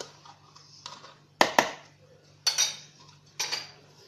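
Utensil strikes against a bowl while chocolate mini cake batter with milk is mixed, three or four sharp clinks and scrapes spaced about a second apart, close, over a faint hum and no voices.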